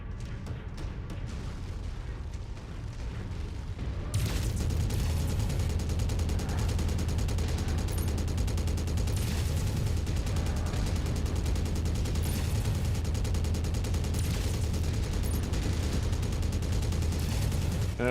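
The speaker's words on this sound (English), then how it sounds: "who's zinging missiles by me?" Missiles streak past in MechWarrior 5 combat, amid a dense, continuous roar of weapons fire and explosions with a loud, sustained rumble and crackling bursts throughout.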